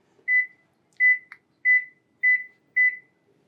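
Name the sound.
microwave oven running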